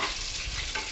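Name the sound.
chicken lollipops frying in oil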